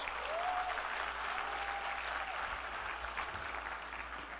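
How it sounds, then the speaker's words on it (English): An audience at an ASEAN agriculture summit gives Joey Concepcion a big round of applause, a full, sustained burst of clapping from many hands that fills the hall and fades slightly near the end. "Can we give Joey Concepcion a big round of applause?"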